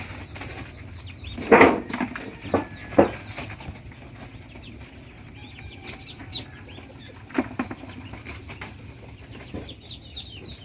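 Muscovy ducks hatched in February moving about a farm enclosure, with a few flurries of wing flapping and soft fowl calls against a quiet outdoor background.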